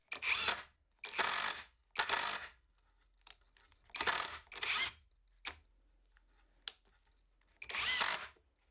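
Power drill driving screws into wood while building DIY saw horses, a series of short whirring bursts, each about half a second long, with quiet gaps between them, close by.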